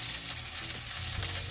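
Crispy chicken pieces fry in a pan, making a steady, close hiss of sizzling oil that runs through the whole short stretch with no talking.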